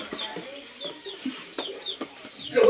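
Chickens at a chicken coop cluck and chirp in short, repeated bursts, several birds nearby calling on top of one another, with a louder squawk near the end over a quiet background.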